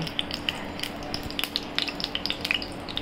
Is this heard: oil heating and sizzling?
yes